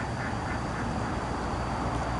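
Ducks quack from a short distance, blending into a dense, steady outdoor wash of noise with no speech over it.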